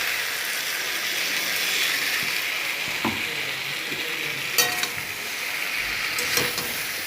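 Spices hit a pan of frying potatoes and drumstick stems, setting off a loud, steady sizzle with occasional utensil scrapes and light clinks against the pan.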